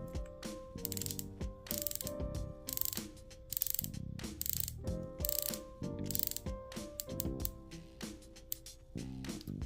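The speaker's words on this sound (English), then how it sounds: "the bezel action is so good on Tudor watches" The bezel of a black Tudor Black Bay 58 watch is turned in quick bursts, giving crisp, close clicking ratchet runs with brief pauses between them, no voices.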